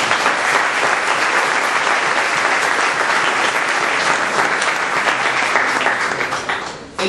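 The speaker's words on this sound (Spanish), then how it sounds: "Dale un aplauso al Señor." Church congregation applauding during a Spanish-language sermon, loud dense clapping sustained for several seconds close by, tapering off at the end.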